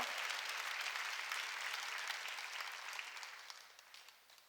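A church congregation at a Sunday worship service applauds in a broad, sustained wash of many clapping hands that gradually fades and thins toward the end, with a few last scattered claps.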